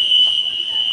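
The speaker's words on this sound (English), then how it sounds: "we have a fire alarm" An apartment fire alarm going off, a steady, piercing high electronic tone held for the full second, loud and continuous with faint background noise beneath.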